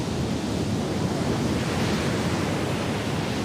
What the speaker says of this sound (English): A lot of wind right now, really intensifying.